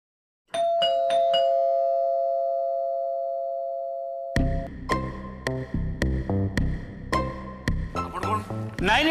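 A doorbell chimes a few bright rings that ring out and fade, followed by a busier run of rhythmic musical tones and hits.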